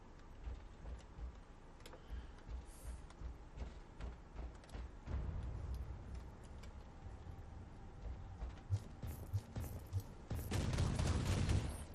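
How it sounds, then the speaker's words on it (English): Bolter gunfire in the video game Inquisitor: Martyr, heard as faint rapid bursts of shots that build to a louder, denser volley near the end over low background sound. "Set him on fire a little bit and blast him with some bolt rounds."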